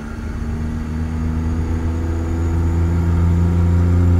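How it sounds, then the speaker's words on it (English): Simulated truck engine in American Truck Simulator, a steady heavy low droning hum that builds slightly in loudness as it revs, close and continuous with no talk. "Let's wrap this engine out. Listen to how beautiful this thing sounds."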